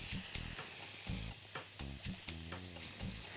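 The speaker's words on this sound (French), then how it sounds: "disposer le tout dans ma poêle bien chaude" Vegetables tipped into a very hot frying pan crackle and sizzle up close in a dense, continuous hiss, broken by light clattering knocks, with nobody speaking.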